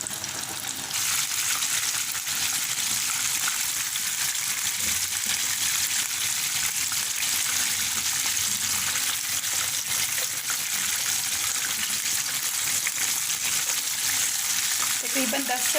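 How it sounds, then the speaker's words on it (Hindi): Chicken pieces deep-fry in hot oil for crispy fried chicken, a loud, dense and continuous bubbling sizzle that holds steady and close throughout. "2-2 पीसेस करके फ्राई करूँगी मैं"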